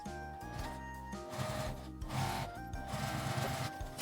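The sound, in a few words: sewing machine topstitching fabric edge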